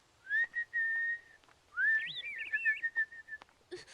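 A person whistles a short tune nearby, a few sustained notes then a warbling run, ending with faint rustling.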